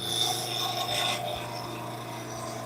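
A turning gouge cuts mahogany spinning on a wood lathe, giving a continuous rasping scrape over a steady motor hum, louder in the first second then easing off.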